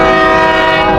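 A train at Takeshiken Port station on the China–Mongolia border sounds its horn, a loud, sustained, close-up blare that holds without break for the full second.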